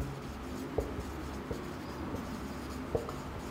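Chalk or marker strokes on a board during a classroom lecture, with a few sharp taps and soft scratching against a quiet room, heard alone without talk.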